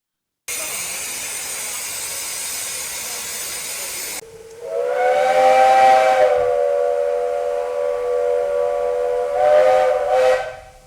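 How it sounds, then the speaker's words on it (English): A loud American-style steam whistle on a steam train of the Romney, Hythe and Dymchurch Railway shrieks in a long sustained blast, preceded by a steady hiss of escaping steam, with a second short toot near the end. "they fitted American whistles to the train"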